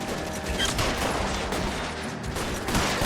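Sustained gunfire from the L.A. Noire video game, a dense, continuous rattle of shots layered over loud game noise for several seconds, close and heavy throughout.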